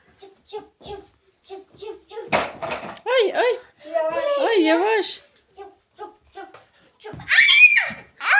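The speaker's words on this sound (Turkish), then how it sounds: "Bağırma annen uyuyor kızım." Someone shouting and squealing at home, high loud cries in bursts amid other children's chatter, with a sharp shriek near the end and scattered tapping between them.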